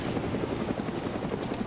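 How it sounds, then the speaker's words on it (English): Helicopter flying overhead in a video game, a steady chopping rotor drone heard alone at moderate distance, continuous through the brief moment. "Hear that? Oh god. The helicopter."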